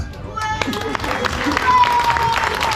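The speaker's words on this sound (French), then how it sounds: "Merci d'applaudir Renaud pour l'Oscar du bulle d'or." A crowd claps in a sustained round of applause at a reading hut inauguration in Tamines, while a voice keeps speaking over it.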